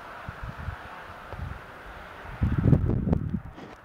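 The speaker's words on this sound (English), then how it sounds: "Yeah, it's kind of windy, so sorry if you can't really hear me." Gusty wind buffets an outdoor microphone during the first light snowfall of the season, with snow on nearby houses, low rumbling bursts that swell strongly toward the end, with no voice over it.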